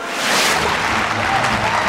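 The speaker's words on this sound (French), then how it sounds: "Merci pour vos applaudissements." Applause from a cartoon comedy club audience, a dense wash of clapping and crowd noise that stays loud and steady for the whole stretch.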